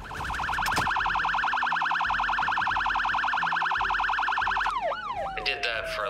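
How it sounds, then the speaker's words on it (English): An ambulance siren in the video game Project Zomboid wails in a rapid, loud yelping cycle, then switches to a slower sweeping wail before dropping away, with faint background noise and no speech. "put it into the ambulance so I could use the siren to draw out even more Zeds."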